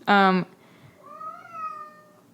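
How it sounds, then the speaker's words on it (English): A cat gives a loud, close meow, then a second, softer drawn-out meow follows after a short pause. "It's hard to concentrate with the cat meowing"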